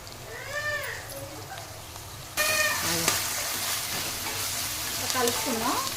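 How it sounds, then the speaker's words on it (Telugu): Onions frying on high heat in a pan for a gongura dish, a loud continuous sizzle with spatula scraping and stirring, growing louder partway through; a few short squeaky tones sound in the background. "బాగా ఫ్రై కావాలి. కొంచెం హైలో పెట్టుకున్నా, హైలో పెడితే తొందరగా అయిపోద్ది."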